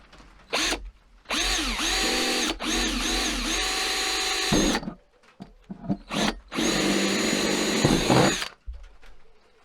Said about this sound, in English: Okay, I'm going to use the jigsaw to cut this thing out.